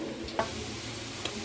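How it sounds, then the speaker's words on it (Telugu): Potato pieces for french fries frying in oil, a steady close sizzle with two small clicks of a utensil against the pan. "ఇప్పుడైతే అవి ఆలుగడ్డ ముక్కలు అయితే వేసుకోవాలండి."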